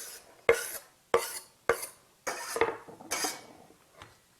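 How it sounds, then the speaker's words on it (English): Chopped yellow onion going into a pan with olive oil: a series of about six sharp clattering, scraping bursts at uneven intervals, close and moderately loud, with no talking. "Then I'm going to put my onion in here."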